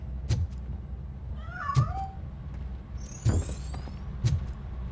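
A cat meows in the RoboCop Rogue City video game, two short meows amid faint game ambience and a few low thuds.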